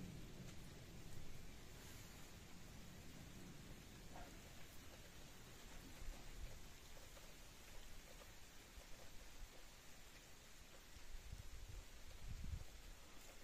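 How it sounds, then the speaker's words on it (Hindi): Steady rain hiss with low rumbling swells of distant thunder, strongest near the end, in a mountain village in Uttarakhand, India; no voices. "अब दोबारा फिर से तेज बादल गरज रहे हैं।"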